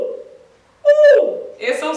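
A woman sings a short high head-voice tone imitating an owl hoot, a single sustained note followed by another brief vocal sound.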